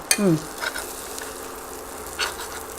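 Scallops sear in brown butter in a pan, a soft steady sizzle with a sharp clink and scrape near the start and a few faint stirring sounds later, close by and without talk.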